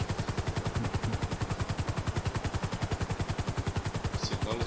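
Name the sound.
gunfire in GTA 5 Online video game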